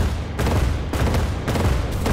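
Airship cannons firing in the video game Cloud Pirates, a dense run of loud, booming volleys repeating every half second or so across the whole stretch, with no talk over them.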